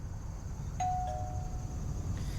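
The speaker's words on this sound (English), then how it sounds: "I wish that doorbell would stop ringing because I think it's mine." Doorbell ringing in the PC video game Concrete Jungle, a single thin electronic chime tone held for about a second over a dense, steady background of game music and noise.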